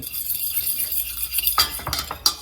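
A utensil scrapes and stirs through a thick custard filling of egg, coconut milk, flour and sugar in a pot, then clinks sharply against the rim a few times near the end.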